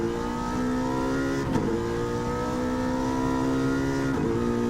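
A V8 supercar engine in the racing game Gran Turismo 7 gives a steady, loud, close roar with a harmonic-rich tone, dipping briefly twice as the revs shift, with no talk over it.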